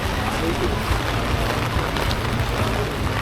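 Heavy storm rain pours steadily and loudly nearby in seaside Hoi An, Vietnam, a dense continuous hiss with no break.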